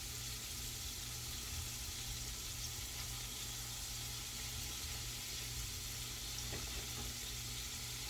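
Floured pork backstrap frying in a pan, giving a steady, even sizzle with faint crackle throughout, moderately loud and close, with no talking.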